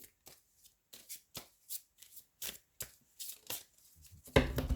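A deck of tarot oracle cards is shuffled and cut close by, giving a series of crisp, evenly spaced riffling slaps that ends in a louder, denser burst of card noise.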